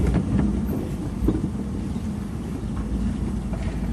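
Car driving down the road out of Daingerfield State Park: a steady low road rumble with wind buffeting from inside the vehicle, continuous and fairly quiet, with no talking.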